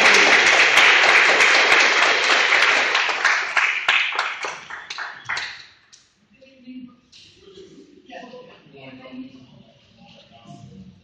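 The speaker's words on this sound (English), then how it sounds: "Welcome applause." Loud applause from an evening union gathering of Boston school bus drivers in Seattle, welcoming a speaker to the stage; dense clapping fades out after about five seconds, followed by quieter room noise and faint voices.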